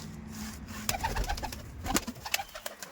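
An Andhra Madrasi pigeon coos close by in a low, throaty warble, mixed with a few sharp clicks and rustles of movement.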